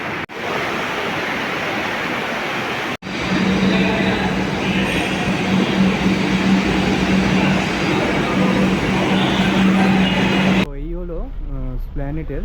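Kolkata metro train rumbles loudly through the station with a steady roar and a sustained low hum, broken briefly by a gap, then ends with a person speaking over quieter background.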